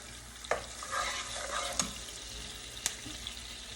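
Ginger garlic paste frying and being stirred in a pan for an okra and shrimp dish, soft sizzle with a few sharp spoon scrapes and clinks, close and fairly quiet.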